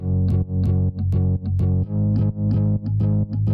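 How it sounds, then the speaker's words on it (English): A deep, droning acoustic bass sample repeats in steady pulses, about seven hits with short gaps between, loud and close with a buzzy, thick tone. "And then I also used some acoustic basses"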